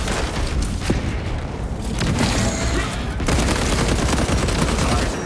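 Dense, loud gunfire and booming explosions, including a frag grenade blast, from the video game Warhammer 40,000: Space Marine 2, sustained without pause throughout with no talk over it.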